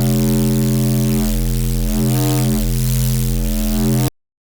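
A thick, buzzing synth bass with overdrive distortion stacked in layers holds a sustained low note, gritty and saturated, with slight pulses before cutting off abruptly into silence.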